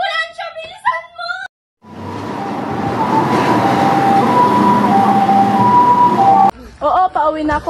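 An ambulance siren wails loud and steady in a dramatic scene, cutting in after agitated voices and running for several seconds before the talk resumes.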